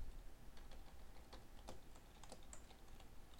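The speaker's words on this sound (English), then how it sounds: "so I'm going to type the email for the client." Quiet, rapid keystrokes on a computer keyboard while an email is typed, irregular clicks close by against a faint background hum.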